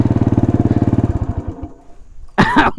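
An old motorcycle engine on a village road kicks into life with a rapid, loud, pulsing idle that sputters down and stops, followed by a sudden burst of shouting close by.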